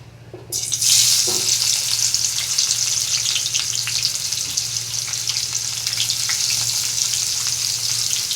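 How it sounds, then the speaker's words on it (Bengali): Onions dropped into hot oil with bay leaves burst into a loud, sustained sizzle after a brief quiet start, with occasional stirring. "এবার পেঁয়াজগুলো দিয়ে দেবো"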